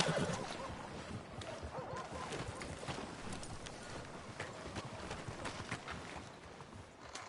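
In Red Dead Redemption 2, steady clip-clop of horse hooves at a walking pace, close and moderately loud over a soft outdoor background.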